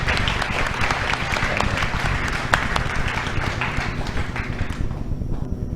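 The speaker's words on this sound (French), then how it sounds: "On peut l'applaudir." Congregation applauding during a Saturday church service: loud, sustained clapping from a full room, with heavy low rumble and scattered sharp claps, fading slightly near the end.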